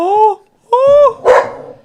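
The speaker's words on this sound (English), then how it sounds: "I don't know what the dogs are, or just we can close the door maybe." A dog barks close and loud indoors, two drawn-out yelping barks followed by a harsher third, heard alone without talk.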